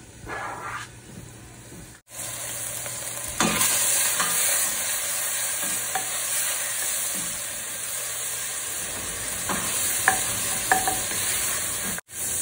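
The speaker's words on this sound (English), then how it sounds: "the bacon starts rendering its fat" Bacon renders its fat in a pan with a steady, close sizzle and crackle. A few brief stirring or scraping touches interrupt it, and no one talks.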